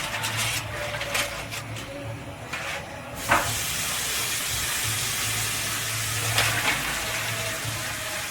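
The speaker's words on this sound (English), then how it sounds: "I'm going to set those bone side up on my grill." Ribs placed bone side up on a hot barbecue grill give off a steady close hiss and sizzle that swells after a few seconds and carries on evenly.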